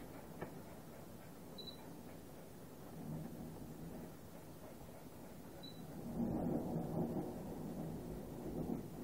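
Thunder rumbles low and heavy, swelling into a loud close crack over steady background noise, with a couple of faint clicks.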